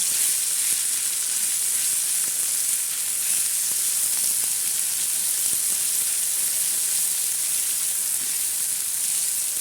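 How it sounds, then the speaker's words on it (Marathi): A ground thecha of green chillies, raw peanuts and garlic fries in oil with a steady, loud, dense sizzle that holds at one level throughout, with no one speaking. "हा ठेसा आपण मस्त असा तळून घेणार आहोत"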